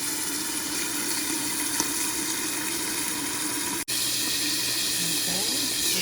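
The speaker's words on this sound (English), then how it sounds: "I'm going to add about a half a cup of water," Water poured from a tap into a pan of beets, a steady broadband rush running continuously and fairly loud with one brief cut near the end.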